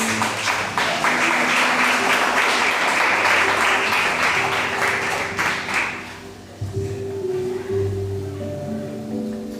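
Congregation in a church applauding together, a dense, loud wash of clapping for about six seconds that then fades as a sustained organ or keyboard tone carries on beneath.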